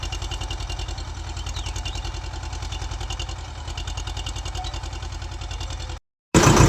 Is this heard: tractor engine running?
yes